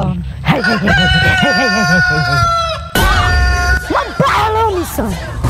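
A rooster crows loudly and close at hand in long, wavering calls, with chickens clucking around it, in a rural comedy scene about catching a chicken; people talk and shout over and between the calls.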